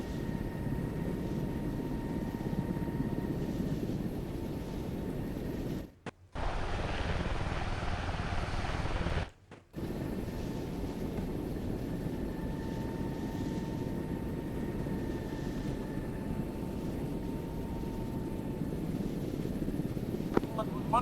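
Steady, droning engine roar of a military aircraft breaking off to climb to altitude, heard continuously for about twenty seconds and briefly cut out partway through.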